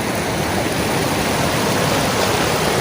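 River water rushes with a strong current near a waterfall in the Kaimur hills, a loud, constant broadband roar that holds steady with no voices.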